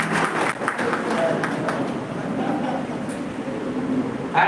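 An audience at a college event applauds, a steady wash of clapping from many hands throughout, fairly loud and sustained.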